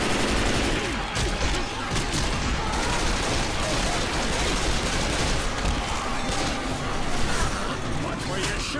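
Nonstop gunfire in the Left 4 Dead 2 video game, dense overlapping shots and bursts filling a loud, chaotic scene with voices shouting over it.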